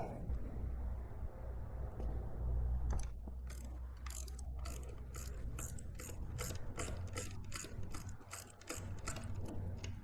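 A ratchet clicks in quick repeated bursts while turning a spark plug socket on a Yamaha XSR900 motorcycle engine, close up after a brief stretch of low rumbling, with a steady rhythm of sharp pawl clicks.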